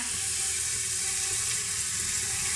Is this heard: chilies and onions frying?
yes